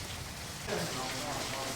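Rain falls steadily at a horse-riding ground, a soft, even hiss that grows slightly denser partway through.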